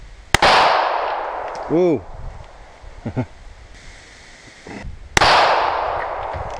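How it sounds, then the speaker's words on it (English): Two close, sharp shotgun blasts outdoors, each followed by a wide noisy burst as a clay tile shatters, with a brief exclaimed voice and a whistle-like wobble between the shots. "Well, that tile likes to explode."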